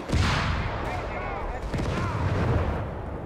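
Gunfire in a Company of Heroes 3 battle, a dense, continuous clatter of shots and booms from a large engagement, loud throughout with voices mixed in.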